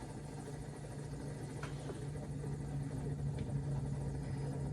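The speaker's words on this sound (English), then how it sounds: "Oh, goody. Helicopter." A video game helicopter's rotor chops and engine drone fill the scene steadily, fairly close and constant, with no one talking.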